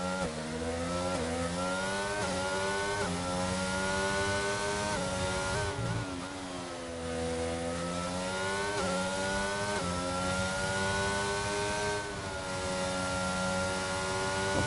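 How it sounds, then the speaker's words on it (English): An Aston Martin race car engine in a racing video game on a lap around the Spain circuit, loud and continuous, rising and falling through the gears with repeated revving upshifts and a short lift near the middle. "Listen to that sweet sound of that Aston Martin car."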